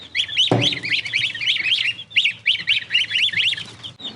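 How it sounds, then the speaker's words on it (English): Rapid high-pitched peeping from a cluster of baby chickens and goslings on a farm, continuous and busy, with one short low thump partway through. "We have little baby chickens and geese."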